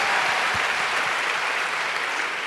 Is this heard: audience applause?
yes